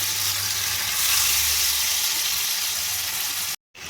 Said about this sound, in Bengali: আমি অল্প অল্প করে ভেজে নেব